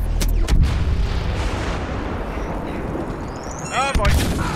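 Grenades going off in Star Wars Battlefront's Walker Assault: a sharp boom opens, with loud rumbling battle noise, blasts and gunfire throughout and a rising whistle near the end.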